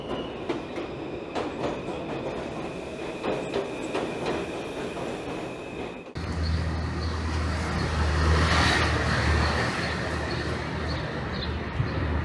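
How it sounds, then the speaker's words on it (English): A train pulls into a station, a steady rumbling roar that swells and grows heavier midway as the carriages draw close, with a sustained high whine and clatter above a loud low-end drone and no talking. "Train's coming, so let me jump on this and I'll pick it up when I get there."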